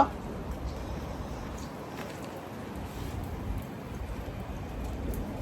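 Light drizzling rain falls outdoors as a faint, even patter with a low rumbling hiss that stays steady throughout.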